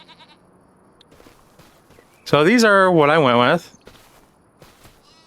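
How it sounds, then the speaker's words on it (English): One loud, close sheep bleat lasting about a second, heard in the Farming Simulator 25 video game, with someone talking quietly before and after and faint footsteps in the background. "Sheep and goat."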